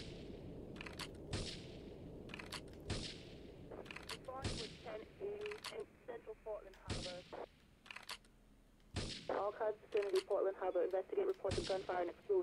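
Gunfire in the video game GTA 3 bursts out in sharp, loud shots, some single and some in quick clusters, spread across the stretch while a player talks between and over them.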